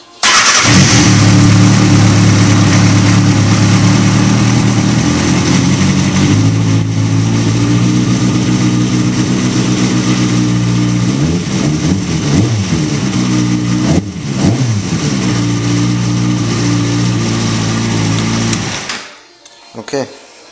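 A motorcycle engine starts and settles into a steady, loud running idle close by after service on its air suction valves and a re-oiled air filter, with a brief wavering rev midway before it cuts off near the end.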